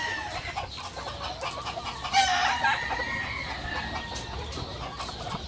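A rooster of an Indian gamecock line gives a short crow and a few clucks at moderate distance, over steady background noise.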